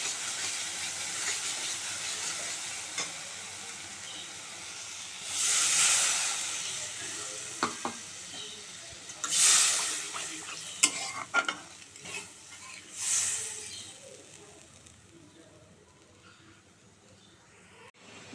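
Water poured onto hot, well-fried masala bursts into loud sizzling and hissing steam in several surges while the pan is stirred, then settles toward a softer simmer.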